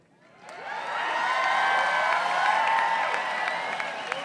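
A crowd at Hostage Square in Tel Aviv cheers and applauds, the noise swelling from quiet to a sustained roar of clapping and whoops, with scattered sharper claps near the end.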